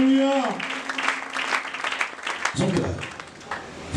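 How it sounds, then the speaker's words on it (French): A church congregation applauds loudly, with dense clapping for a couple of seconds before a voice takes over as the applause fades beneath him. "Est-ce qu'on peut acclamer très fort?"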